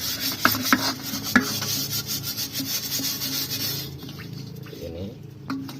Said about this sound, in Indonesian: Kita gosok.